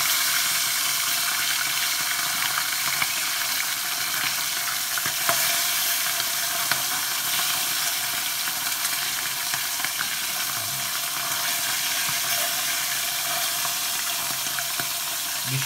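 Sea bass frying in a pan gives a steady, bright sizzle that carries on without a break, close and fairly loud, with small crackles and spits scattered through it.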